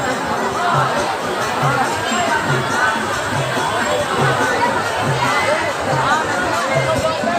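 A dense crowd murmurs and chatters without pause at a Mahashivratri fair in a flower garden near the Baba Mukteshwar Dham temple in Unchahar, Rae Bareli. The babble stays loud and close the whole time, with many voices overlapping.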